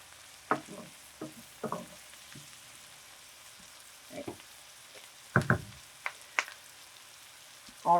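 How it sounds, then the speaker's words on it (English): Onions sauté in a pan for bacon jam, a soft, faint sizzle underneath with several sharp scraping stirs of a utensil scattered irregularly, close by and with no talking. "we're going to saute these down a little bit"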